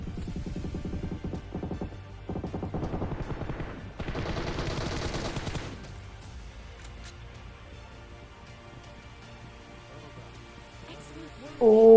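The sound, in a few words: gunfire in the video game Battlegrounds Mobile India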